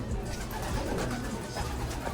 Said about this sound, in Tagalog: May mga ibon natin oh.